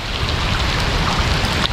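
Steady rain falls in a dense, continuous hiss of drops pattering on surfaces outdoors, close and even throughout with no pauses and no voices.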